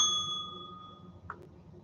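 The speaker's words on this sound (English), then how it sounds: "I just like ringing the bell for fun now." A small bell rings once at the start with a clear metallic tone that slowly fades, followed by a faint tap in a quiet room.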